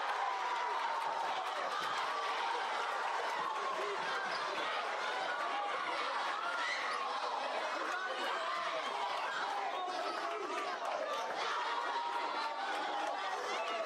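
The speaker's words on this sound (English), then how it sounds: "You love hearing this rowdy crowd" A rowdy crowd at a high school homecoming basketball game chatters and shouts continuously in a dense, echoing wash of voices with scattered laughter.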